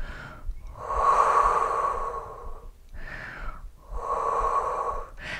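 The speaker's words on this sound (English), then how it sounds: "You're just gonna breathe nice and easy." Slow, deep breaths during a standing Pilates calf stretch: three long airy exhalations, each a few seconds and fairly close, separated by brief quieter inhales, with no talking.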